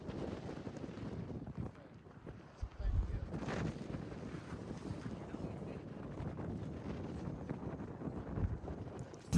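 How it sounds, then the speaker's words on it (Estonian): Strong wind gusts and buffets the microphone outdoors near the sea, a rough continuous roar that swells and eases, with a few brief voices underneath. "tuul on räige"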